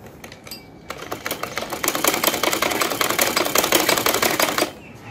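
A sewing machine stitches a cut work patch for a shirt daman, starting with a few slow stabs then running in a rapid, even mechanical clatter close by before stopping.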